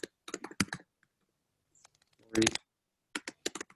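Typing transaction details into a property-finance web page on a computer keyboard, close clusters of quick clacking keystrokes in short bursts separated by quiet pauses, with a voice speaking between them.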